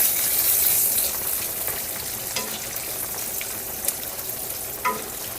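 Sausage and garlic fry in a pan over turned-up heat, a loud, close, continuous sizzle with occasional crackles and faint stirring scrapes.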